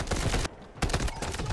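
AKS-74 rifle firing in Delta Force, fast loud bursts of automatic fire broken by a short pause before the shooting starts again, no talk over it.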